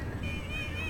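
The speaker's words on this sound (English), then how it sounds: "It was that windy." Strong wind buffets the microphone outdoors at a cricket match, a continuous loud rumbling gust that lasts just under a second.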